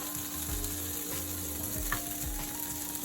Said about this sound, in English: I'm going to add a teaspoon of butter. All right. Let that melt away.